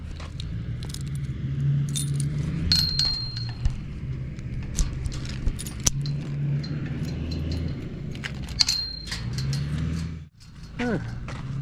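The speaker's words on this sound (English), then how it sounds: "unlock my gate" Keys jangle and clink repeatedly while a truck is started and a gate is unlocked during an elk hunt in Arizona, bright metallic rattles in irregular bursts over a low engine rumble.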